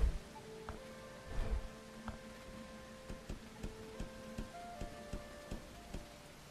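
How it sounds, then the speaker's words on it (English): Rain falling in the medieval game Bellwright, a faint, steady patter with a series of soft, evenly spaced knocks and thuds from in-game activity layered on top. "Oh, it's raining."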